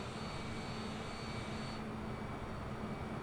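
An airplane in the Microsoft Flight Simulator game flies low near a runway, a constant loud engine drone and rushing roar filling the whole stretch without a break.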